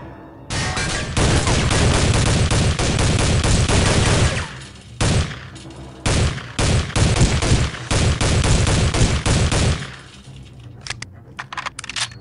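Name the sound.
gunfire in the video game Soldier of Fortune II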